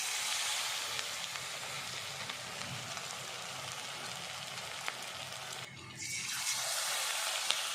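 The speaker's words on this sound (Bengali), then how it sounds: "তেলটা ভালোই গরম হয়ে গেছে। এবার আমি একে একে পিসগুলো ছেড়ে দেবো।" Pakora pieces frying in hot white oil give a steady, dense sizzle that runs the whole time, with a short dip in the bubbling partway through before the hiss picks up again.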